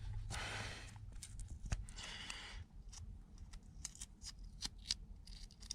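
Duct tape is pulled off the roll in quick ripping bursts, a couple of longer tearing strips followed by several short crackly snaps and rustles, close and fairly quiet, with no speech.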